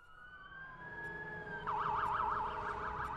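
A police car siren in the video game Watch Dogs wails, first a long rising and falling tone, then a fast warbling yelp, fairly close and loud over a low engine rumble.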